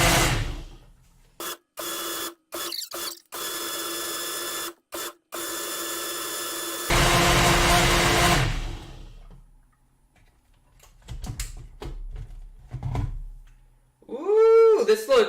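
A blender running an ultra-blend program on a water smoothie: the motor hums in stop-start pulses, then surges into a brief roar before cutting out, followed by scattered clatter and voices.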